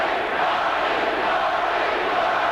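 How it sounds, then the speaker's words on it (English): Arena crowd at a 1990 Western Conference Finals basketball game between the Trail Blazers and Suns, a dense sustained roar of many voices chanting a player's name, loud and steady throughout. "Crowd chanting Marley's name."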